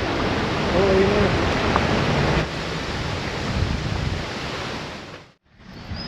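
Balagbag Falls waterfall pouring in a loud, steady broadband roar close by, with the rushing water continuous throughout and briefly muffled near the end.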